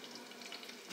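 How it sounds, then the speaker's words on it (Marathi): Onion frying in oil in a pan, a brief soft, continuous sizzle at close range with a slight swell at the very end. "आपला कांदा छान फ्राय झालेला आहे"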